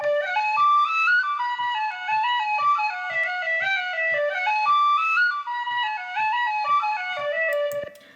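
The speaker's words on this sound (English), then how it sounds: "So if we listen just solo to my whistle" A tin whistle plays a lively, bouncing Irish jig, Jerry's Beaver Hat, alone, quick clear notes skipping up and down in steady rhythm with light taps beneath.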